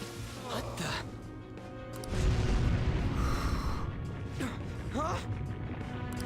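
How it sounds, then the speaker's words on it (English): A sudden deep boom from an explosion in the video game Persona 5 bursts in partway through, followed by a sustained low rumble beneath game music and character voices. "An explosion?"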